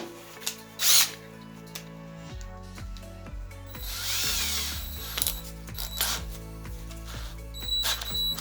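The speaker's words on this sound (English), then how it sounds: "Let me grind this down." Grinder working down a hydraulic cylinder part from an abandoned leaking backhoe, heard in several short bursts of harsh metal grinding between quieter workshop clatter and tool handling, close and fairly loud.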